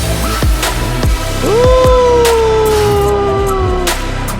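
Bridge section of a K-pop track: punchy electronic drums pulse under a gliding, siren-like synth lead that swoops up and holds, loud and dense with no voices.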